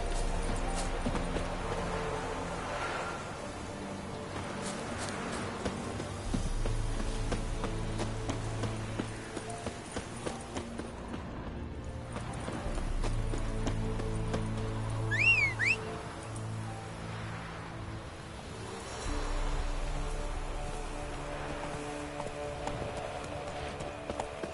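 Roach, a horse in The Witcher 3 video game, clip-clops along in steady, close hoofbeats that repeat through the whole stretch, with brief pauses and a few small extra effects along the way.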